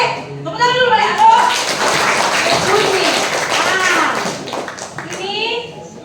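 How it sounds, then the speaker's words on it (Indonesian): School students at an outreach session for SMKN 1 Tolitoli at SMPN 2 Galang applaud together, a busy burst of clapping mixed with children's voices and chatter that swells and fades over several seconds. "Oke, tepuk tangan dulu balik."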